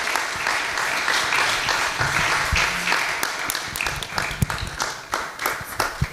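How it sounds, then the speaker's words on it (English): Sustained audience applause at a public health summit, dense clapping from many hands that holds steady for several seconds, then thins into scattered claps at the end. "So ladies and gentlemen, give a round of applause to Dr. Muleshe to join and give his speech."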